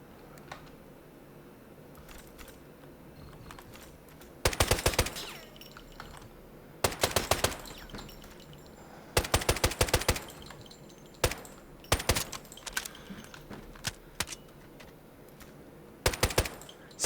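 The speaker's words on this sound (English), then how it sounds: "I like the sound with the suppressor." A suppressed XM7 rifle in Delta Force fires in repeated short bursts, each a rapid string of sharp, muffled cracks, with single shots between bursts and quiet pauses separating them across the stretch.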